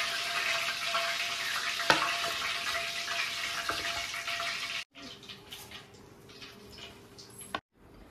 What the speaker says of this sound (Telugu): చూడండి ఎంత బాగా ఫ్రై అయ్యింది.